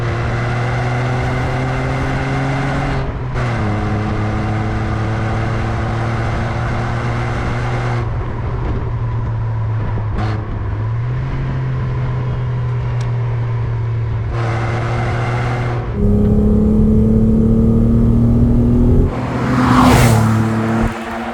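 A Renault Clio V6 Phase 1 driven on the road, its engine droning steadily with tones that rise and drop through gear changes, then swelling louder as it revs hard near the end, heard from inside the car.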